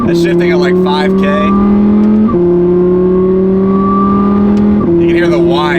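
A supercharged Audi R8 with a straight-piped exhaust revs hard and close up, its engine drone climbing through two gear shifts as a high supercharger whine rides on top; voices talk briefly at the start and end.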